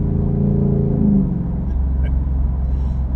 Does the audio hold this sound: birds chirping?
no